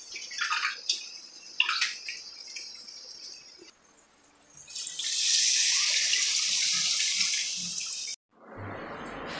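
Water is poured from a tumbler into tamarind extract for a fish curry, a splashing, gurgling pour that swells into a steady rushing stream before stopping abruptly, followed by a softer bubbling hiss.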